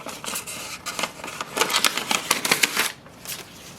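Jammed paper being pulled from an Epson EcoTank ET-2400 printer, a close series of crisp rustles, crinkles and quick rasping tugs that bunch together before ending in a soft settle.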